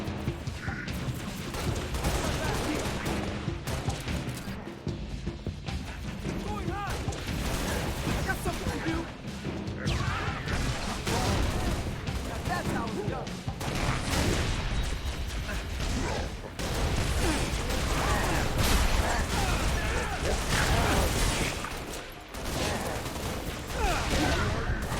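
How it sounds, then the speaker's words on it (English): Concussion rifle fire in a video game, dense bursts and impacts sounding continuously over a busy game soundtrack, with talk running underneath throughout. "That concussion rifle is pretty fun."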